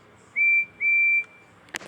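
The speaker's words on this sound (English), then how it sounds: "No, that was a whistle. Percy's whistle." Percy the tank engine's train whistle sounds two clear, sustained high toots in quick succession, close and loud, followed by a brief knock.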